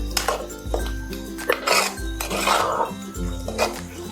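Minced egg kheema masala stirred and tossed in a pan, with a metal spatula clinking and scraping against the cookware in uneven close strokes over a low background hum.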